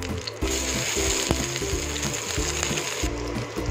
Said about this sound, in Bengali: এবার আমরা বেগুনগুলোকে ভেজে নেব।